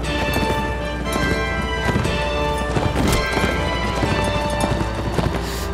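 Rapid hooves of a horse in Mount & Blade: Warband clattering in a steady galloping rhythm, set against a dense, constant backdrop of game music and ambient noise.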